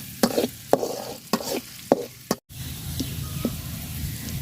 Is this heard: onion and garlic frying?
yes